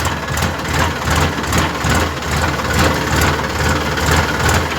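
Tractor engine running in a damp farm field, a steady low idling rumble with continuous mechanical vibration throughout, close and fairly loud, no voices.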